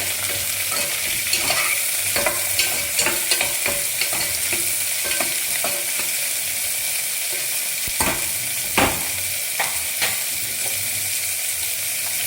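Chopped onions stir-fry in a pan for a beetroot salna, a steady bright sizzle broken by repeated scraping clicks of a spoon against the pan, close and continuous, with no talking.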